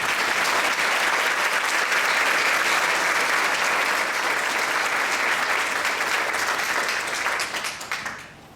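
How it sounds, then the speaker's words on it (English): Sustained crowd applause at an awards ceremony honoring healthcare nominees, steady and full for several seconds before tapering off at the end. "Let's applaud the efforts of these well-deserved people."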